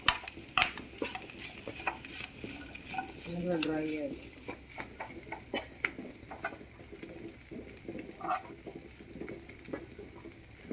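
Clam meat fry being stirred in a pan, light scraping and clinking of a utensil against metal, soft and intermittent beneath a person talking.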